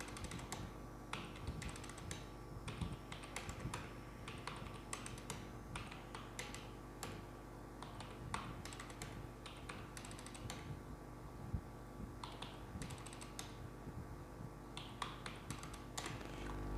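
Computer keyboard typing a basic salary figure into an Excel spreadsheet, with rapid, irregular clusters of close, light key clicks and short pauses across the whole stretch, fairly quiet over a steady low room hum and no talk.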